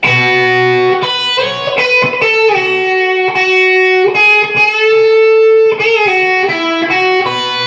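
Distorted electric guitar plays the bridge of a song: sustained, slid notes and chords, loud and continuous with a few sharp re-attacks.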